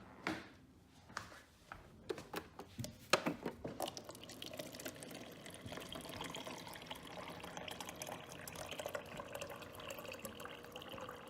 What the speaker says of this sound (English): And I'm gonna fill it up with water.